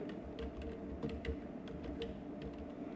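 Quiet, close clicks of a computer keyboard come in scattered bursts while text is entered on a PowerPoint slide, with a low steady background hum.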